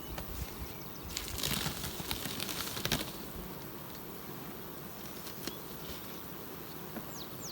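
Bees buzzing around a hive outdoors, a continuous soft hum of many insects with a few louder buzzing passes drifting near and away.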